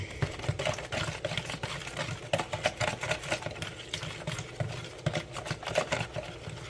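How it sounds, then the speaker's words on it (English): A whisk beats pepper steak sauce in a pan with rapid, steady ticking strokes, close and moderately loud, running continuously without talk. "And we're going to whisk it up."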